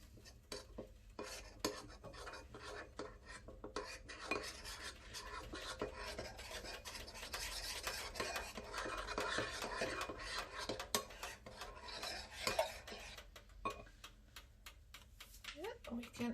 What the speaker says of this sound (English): we're gonna take the rice flour and we're gonna add just a bit of the warm milk over it in order to mix it